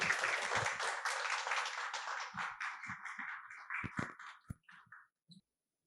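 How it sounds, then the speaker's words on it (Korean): Audience applause welcoming a presenter onto the stage at a South Jeolla province green energy and AI energy-industry forum, steady and dense at first, then thinning into scattered claps and shuffling before fading out. "큰 박수로 무대로 모시겠습니다."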